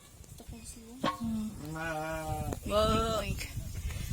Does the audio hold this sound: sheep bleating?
yes